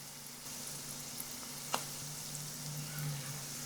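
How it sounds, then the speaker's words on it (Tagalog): Cabbage strips coated in butter and breading sizzle steadily in hot oil over medium heat, a soft constant crackle with one sharp pop midway, fairly quiet and without voices. "Pirituhin natin to into medium heat hanggang sa lumutong ito."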